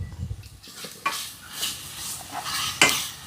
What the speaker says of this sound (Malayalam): ഇനി ഇത് തിളക്കട്ടെ.